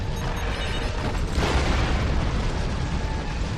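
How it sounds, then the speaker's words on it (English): Detonating charges explode in the Star Trek Online video game: a dense, loud rumbling roar with a sharper burst swelling in the middle, sustained throughout without voices. "Detonating charges!"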